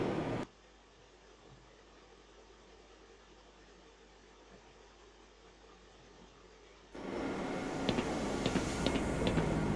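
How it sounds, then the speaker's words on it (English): A train ride heading inbound in a video game intro: a low, steady mechanical rumble hums along quietly, then swells into louder rattling and clanking for the final few seconds, with no voices. "This train is inbound from Level 3 dormitories to Sector C test labs and control facilities."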